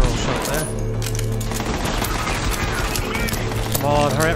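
Gunfire in the video game Borderlands 3, a dense run of rapid shots and booms with a game soundtrack and voices mixed underneath.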